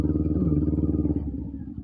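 Motorcycle exhaust rumbling close by, a steady low throb with clattering pulses that eases slightly toward the end.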